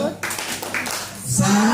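A group of teachers claps in a quick rhythmic pattern, mixed with voices talking close by.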